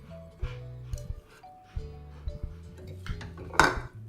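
Cooked vegetables with chopped coriander being stirred in a pan for a cauliflower peas masala, with scattered soft clinks and scrapes of a spoon against the metal over a low background hum.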